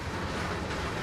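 A freight train with hopper cars runs in Train Sim World, giving a continuous, even rumbling roar with no distinct beats and no voices.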